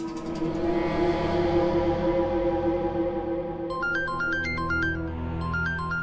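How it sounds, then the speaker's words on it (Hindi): A phone ringtone plays a repeating electronic melody, entering partway through over a low, sustained background drone. "पक्का रीत का ही कॉल होगा।"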